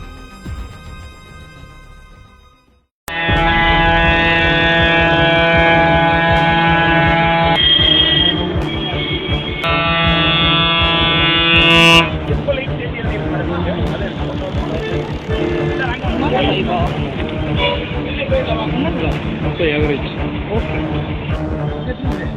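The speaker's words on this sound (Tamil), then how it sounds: "அதிக ஒளி எழுப்பக்கூடிய ஏர் ஹாரன் பொருத்தப்பட்ட தனியார் அரசு பேருந்துகள்" A loud, blaring bus air horn sounds in long sustained blasts with shifting pitch, preceded by a quieter horn and followed by traffic and engine noise.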